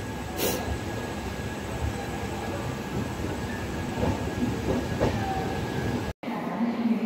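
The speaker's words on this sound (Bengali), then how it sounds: "ভোর 5টা 15 নাগাদ কামরূপ এক্সপ্রেস হাওড়া এসে পৌঁছালো।" The Kamrup Express passenger train runs on toward Howrah, a steady loud rumble of wheels and carriages with faint rhythmic clicks and a brief squeal, heard from inside, with no talk.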